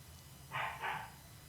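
A dog gives two quick barks in a row, fairly faint and a little distant, over a low background hum. No one speaks.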